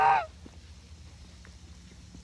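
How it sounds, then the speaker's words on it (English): A goose gives one short, loud honk up close at the start, followed by quiet barn ambience with faint rustling at night. "You're the fastest goose."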